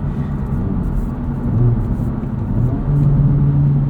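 A 2024 Acura Integra Type S on the road, with a steady low engine drone and road rumble, rising slightly in pitch as it accelerates toward the end, heard from inside the cabin.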